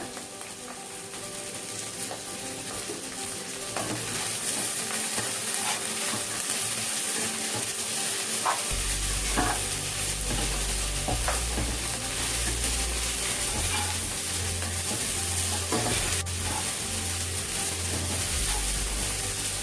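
Ginger, garlic, turmeric, green chili and salt frying in a pan for prawn rice, a steady sizzle that grows louder and fuller partway through, with occasional scraping clicks of a spoon.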